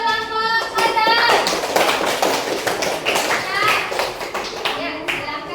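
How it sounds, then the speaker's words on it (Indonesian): Classroom children clap for a group, a burst of quick, uneven applause under a voice and children's chatter, fairly close and lively. "coba tepuk tangan kepada kelompok sadar."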